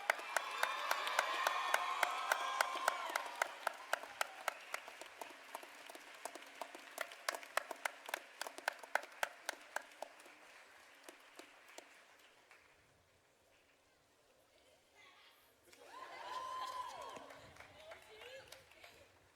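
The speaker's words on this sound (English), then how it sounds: "Please give a round of applause for Second Lieutenant Cass." An audience applauds at a commencement ceremony. The clapping is steady and fairly distant, peaks early, fades out around the middle, then gives way to a voice speaking over a public address system.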